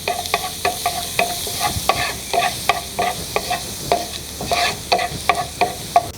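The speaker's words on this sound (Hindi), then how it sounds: "इसमें हम ये 1 टीस्पून चॉप गार्लिक इसको सौते करेंगे।" Chopped garlic sautéing in about a spoon of oil, with a soft continuous sizzle under regular, rhythmic stirring strokes of a spoon against the pan, close and loud throughout.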